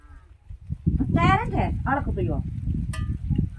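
A buffalo lowing on a mountain village path, a loud drawn-out moaning call over low rumbling background noise, with a second shorter call following.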